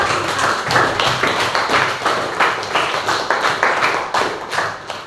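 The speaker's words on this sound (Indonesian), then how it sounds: "Tepuk tangan untuk kelompok 5." Classroom of students clapping for a group after a writing task, a lively, uneven patter of many hands with audible individual claps, close and fairly loud, no talking over it.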